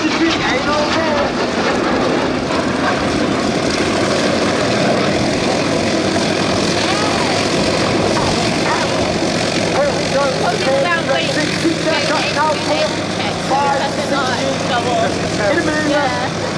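Red Arrows jets fly at a crowded air show display, giving a loud, continuous roar that swells and fades as they pass over. An announcer's voice runs on top of it throughout.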